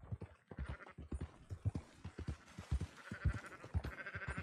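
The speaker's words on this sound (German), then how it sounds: "Treibt die Schafe zurück zur Herde." Sheep bleat in the Red Dead Redemption 2 video game, many close, repeated calls from a scattered flock, with soft hoof and shuffling noises between them.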